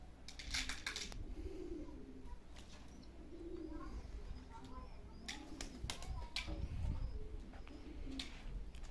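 Çorum bare-necked pigeons coo softly in repeated low phrases, with a few sharp clicks and rustles nearby and people talking quietly in the background.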